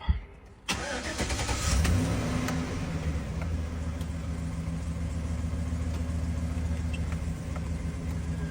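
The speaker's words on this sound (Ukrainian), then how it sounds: "Фінальний етап це запуск автомобільного двигуна." A Chevrolet Silverado with a 5.3 Vortec V8 cranks briefly and fires up, then settles into a steady, close, even idle that runs on alone.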